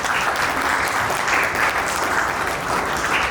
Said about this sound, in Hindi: जोरदार तालियां हो जाए एवरीवन।